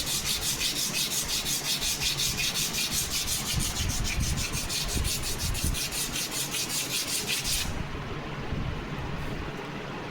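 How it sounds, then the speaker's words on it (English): Sandpaper rubs along the leading edge of a balsa wood static aircraft model in quick, even, rhythmic strokes. The sanding is close and continuous for most of the clip, then stops near the end. "Do little bit sanding on the bottom of this leading edge also."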